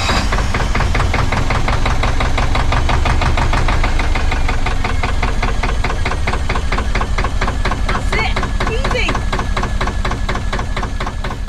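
A narrowboat's diesel engine, converted to key start, runs loudly up close, with a steady rapid knocking chug that holds at an even pace throughout and no talk over it.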